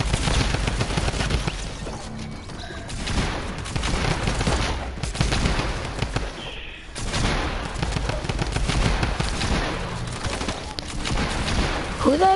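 Gunfire in a video game comes in dense, rapid bursts that keep going almost throughout, with a brief lull partway. Voices talk faintly beneath the shooting.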